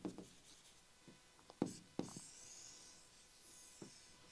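Pen scratching on paper during a reproductive-organs lesson, with faint scattered strokes and a few sharper taps, quiet and close, no talk.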